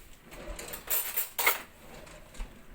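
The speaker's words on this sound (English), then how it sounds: "Give it a stir. Dissolve a bit of the sugar." A spoon stirs sugar in a bowl while baking cinnamon scrolls, giving light clinks and scrapes against the dish, with a few louder scraping strokes in the middle.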